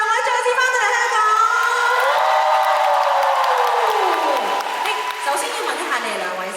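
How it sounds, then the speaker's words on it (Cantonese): A fan-meeting crowd in Hong Kong applauds and cheers for two guests, the duo LingOrm. Steady, loud clapping and shouting fill the hall, with a voice and tonal sound running over it throughout. "要俾多啲嘅掌聲"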